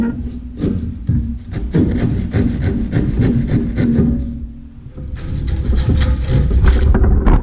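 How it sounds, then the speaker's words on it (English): Rough back-and-forth keyhole saw cutting through drywall, with rasping strokes in steady bursts, a short pause midway, then faster cutting resumes close by. "just take your keyhole saw and we're just going to cut this out."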